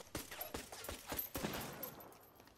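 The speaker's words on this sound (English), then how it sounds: "That was me trying to shoot that trap." Rapid pistol shots fired at a trap in a video game crack out in a quick series of about eight sharp, fairly faint reports with a short decay after the last.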